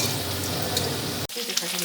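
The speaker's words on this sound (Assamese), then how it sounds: "এই আলুখিনি মই অকণ ভাজি ললো" Cut potatoes fry in a pan with onions, a steady close sizzle briefly broken by a stir or a shift of the pan.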